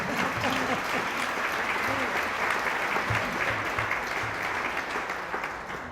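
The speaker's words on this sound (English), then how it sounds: "Let's have a big round of applause to make up for it." Sustained applause from a crowd at a school employee recognition celebration honoring teachers of the year, a steady dense wash of clapping lasting the whole stretch and fading slightly at the end, with a faint voice underneath.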